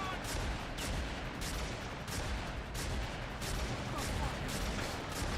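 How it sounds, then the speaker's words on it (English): Rapid gunfire fills a video game scene, with a shotgun blasting again and again in a dense, unbroken barrage that stays loud the whole way through. "Jackie loads his shotgun to fire infinite bullets"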